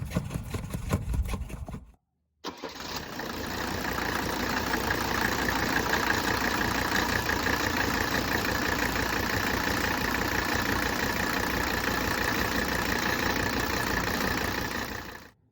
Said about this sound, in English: Let the car idle